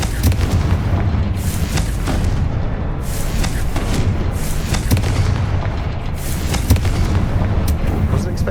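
A Confringo blasting spell bursts in Hogwarts Legacy, a loud booming explosion with a rumbling tail, while a voice speaks over the noise.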